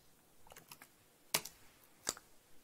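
A few quiet keystrokes on a computer keyboard, with a short cluster of light taps followed by two sharper, louder clicks, separated by near silence in a quiet room.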